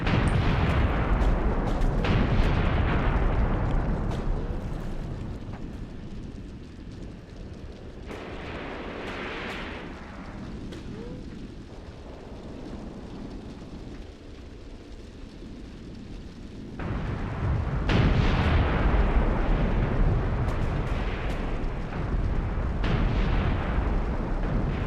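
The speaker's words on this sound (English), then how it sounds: "Make sure that those mortars are still firing." Mortar and artillery fire in a large Iran–Iraq War battle game keeps up a dense, continuous rumble of overlapping booms and blasts, louder at the start and again near the end.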